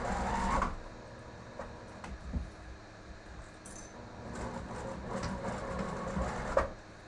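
A sewing machine stitches slowly over the bulk of a zipper, its soft mechanical whirring and clicking rising and falling in short bursts at close range, with light handling knocks between runs.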